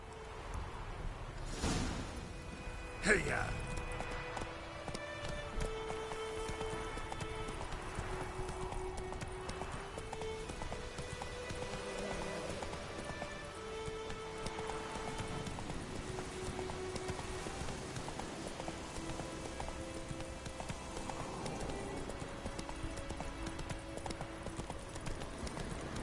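Horse hooves clip-clop steadily through the Witcher 3 game world on PS4, a continuous rhythmic trot sitting under layered orchestral game music, with a brief rustle early on and no talking.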